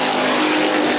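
Street stock race cars roar side by side around the Perris Auto Speedway track, a dense, steady engine drone at close range with no break or fade.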